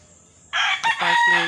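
A backyard rooster crows once loudly and close by, a strained multi-part call that rises, breaks briefly and then holds out to the end over quiet background.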